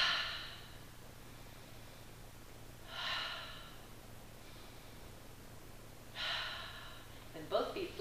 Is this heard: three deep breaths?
yes